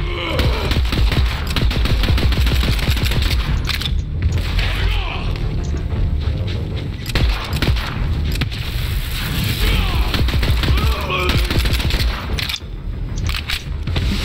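Gunfire and impacts in Borderlands 3 combat, a dense run of booming shots and crunching hits with frequent sharp bursts throughout, mixed under voices talking over the action.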